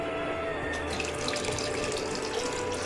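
Water pours steadily into a kadhai while palak ka kapa, a Uttarakhand spinach dish, cooks; a continuous close splashing stream with no talk.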